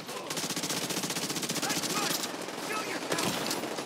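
Rapid SMG gunfire from The Division 2's Warlords of New York at Pier 26, a dense, steady burst of automatic shots lasting the whole stretch, loud and close with game ambience behind it.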